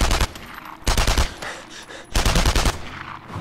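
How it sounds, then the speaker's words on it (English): Gunfire in the World War II shooter game Enemy Front: three loud bursts of rapid automatic shots separated by short pauses, close and punchy. "It takes a few shots to kill."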